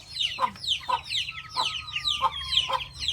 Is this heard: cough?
no